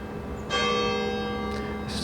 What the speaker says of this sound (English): Excuse me, the bells are ringing.